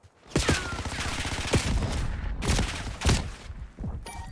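Automatic gunfire from a weapon in Black Ops 6, rapid close shots ringing out in several sustained bursts with brief gaps between them.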